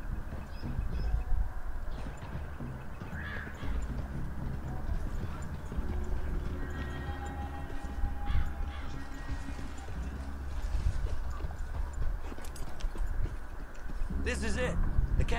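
Horses' hooves clip-clop steadily in the video game Red Dead Redemption 2, a continuous trotting rhythm that sits under talking voices and background game ambience.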